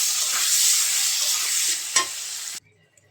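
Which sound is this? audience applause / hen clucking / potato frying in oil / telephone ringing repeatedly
potato frying in oil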